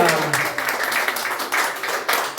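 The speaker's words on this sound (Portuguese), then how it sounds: "pode aplaudir o Espírito Santo" A church congregation claps together in a continuous, fairly loud burst of applause that pulses in waves for a couple of seconds.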